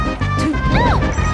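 Peach's frying pan connects in Super Smash Bros. Melee with a single loud, crunchy smash-hit burst, mixed with game effects and the bustle of a tournament match.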